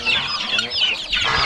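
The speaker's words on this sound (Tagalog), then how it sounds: "May mga sisiw pa tayo dito." Chicks and chickens in a backyard poultry pen, close and loud, with a continuous run of high peeping and clucking and no talk.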